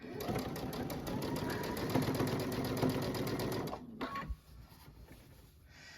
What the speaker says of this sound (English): Don't want to sew that fast when you're stitching in the ditch.